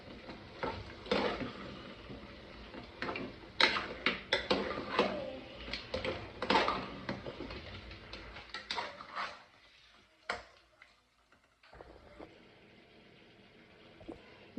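Metal spoon scraping and clinking against a pot as spice powders are stirred into country chicken curry, with an irregular run of close, loud clatters and a faint sizzle, thinning out toward the end.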